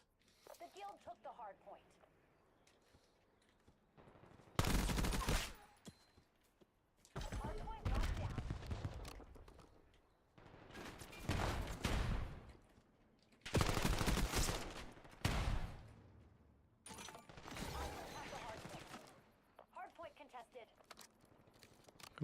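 Call of Duty gunfight with bursts of rapid automatic gunfire and fusillades in several loud clusters, separated by quieter stretches, while a person talks intermittently over the game.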